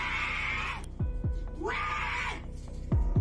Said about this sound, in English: The said woman was dragged across the stairs, and her loud screams could be heard.